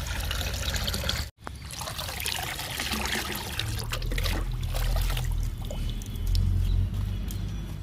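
A mixed liquid fertilizer of oats and kitchen waste is poured onto flowering garden plants, giving a continuous close splashing trickle with a brief break partway through.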